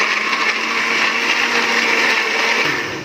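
A kitchen blender roars loudly and continuously, grinding cooking ingredients with water for a chicken steak dish. The motor whine stays steady, then begins to wind down at the end.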